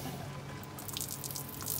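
Water splashes and trickles steadily from a travel trailer's plumbing as it is drained for winterizing, a soft continuous gush with brighter splatter spikes near the end.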